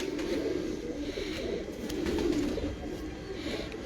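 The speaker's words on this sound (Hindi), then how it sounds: "माशाल्लाह कबूतर क्या अच्छे हैं" Breeder pigeons coo in soft, continuous low rolling calls close by, overlapping one another with faint background noise.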